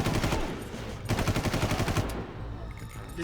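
Enemies open fire in the video game Far Cry, with rapid automatic gunfire bursting in loud, close volleys that stop briefly and then resume.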